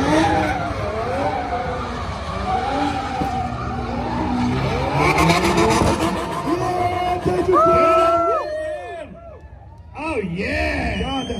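Cars skid and squeal their tires at a Hoonigan burn-yard show at SEMA 2021, with loud engine roar and long rising squeals under excited crowd voices and talk.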